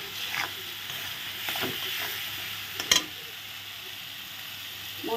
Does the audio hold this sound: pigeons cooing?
no